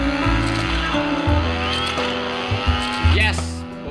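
A trail motorbike in the Trials Fusion video game, engine droning and revving with shifting pitch and a rising whine near the end, loud and continuous under background game music.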